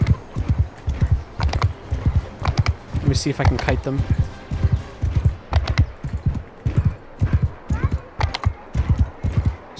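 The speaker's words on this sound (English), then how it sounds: "We're trying it with the horse." A horse gallops in the video game Bannerlord, making a steady rhythmic clip-clop of hoofbeats throughout while someone talks over it.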